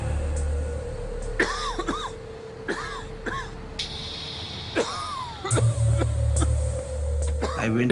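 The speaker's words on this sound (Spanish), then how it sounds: "Me costaba respirar y empecé a toser y a toser y a toser." A person coughs repeatedly in short, harsh bursts with throat clearing and strained breaths between them, close up and fairly loud, over a steady background hum.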